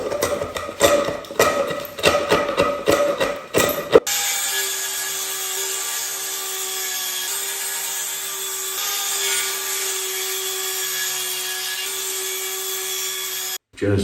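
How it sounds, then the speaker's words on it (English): A power drill drills into wood for a workbench: a few seconds of rough, uneven grinding and scraping, then a steady loud whirring hum that runs on for about ten seconds before cutting off. "Just drilling it into the wood."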